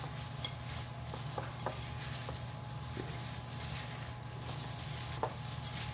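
Raw shrimp are stirred in a bowl, giving a soft, steady wet churning. Light clinks of a utensil against the dish are scattered through it, close and quiet.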